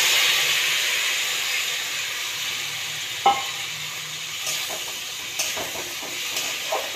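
Onion and bottle gourd peel fry in a pan, a steady close sizzle and hiss with occasional scraping stirs of a spatula, no talking.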